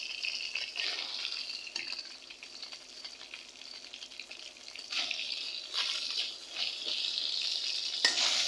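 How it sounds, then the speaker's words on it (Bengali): Pieces of rui fish fry in oil, giving a steady, close hiss of sizzling that swells and eases throughout. "আর এই মাছগুলো আমি বেশি ভাজবো না"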